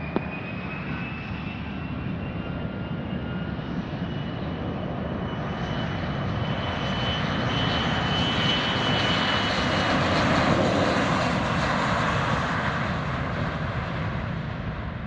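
A private jet takes off on runway 16R at Van Nuys Airport, a steady, loud jet roar with a high whine that swells gradually as the engines spool up and the aircraft rolls.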